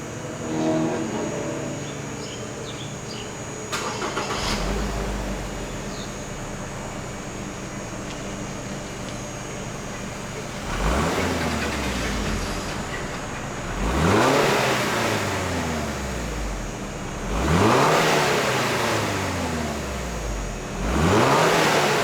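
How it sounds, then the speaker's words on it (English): Stock exhaust on a Toyota GR86 revving repeatedly in a workshop before an AWE exhaust install, four distinct rising rev sweeps after a short idle, fairly close and loud. "Alright, so this is the original sound of the car."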